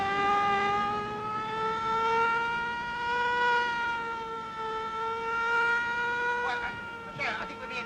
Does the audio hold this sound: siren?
yes